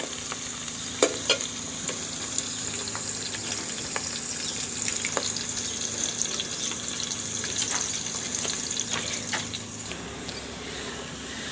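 Onions and ginger sizzle steadily in hot oil in a pan over an outdoor wood fire, a continuous close frying hiss with occasional stirring clicks and scrapes, and no talking.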